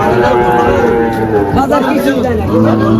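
Cattle moo loudly and repeatedly at close range amid a busy crowd at a livestock market in Faridpur, Bangladesh, with people talking underneath.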